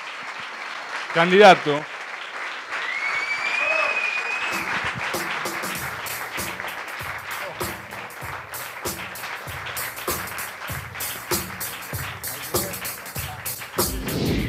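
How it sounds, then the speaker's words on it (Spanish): A studio audience at a late-night talk show applauds to welcome a guest, dense steady clapping that runs under a host speaking over it and slowly thins out. "Me gustaría que recibamos enérgicamente con un aplauso, ¿sí? A Matías Lamens"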